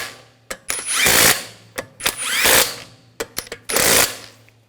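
An impact-style power tool snugs the wheel lug bolts on a 2007-2013 BMW X5 3.0L, firing three loud, close buzzing bursts separated by short mechanical clicks and pauses.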